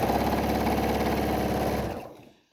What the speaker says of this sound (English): I don't know if you can hear while I'm sewing